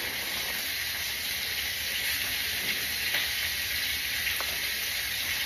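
Fish fries in a pan with a steady, even sizzle and hiss that stays at a constant level throughout, and no one speaks.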